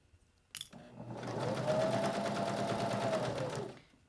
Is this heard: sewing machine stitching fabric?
yes